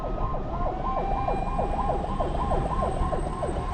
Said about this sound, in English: The siren of the hearse carrying 4 people who died of coronavirus